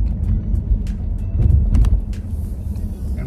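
A lifted Subaru Legacy rolls slowly through a parking lot, its low engine rumble steady and close with a few light knocks and rattles on top, and no one speaking.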